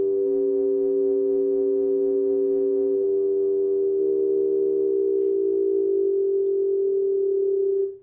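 A synthesizer oscillator holds a loud, steady tone with LFO-driven sidebands, pulsing at first and then stepping up in pitch partway through, heard alone for the whole stretch.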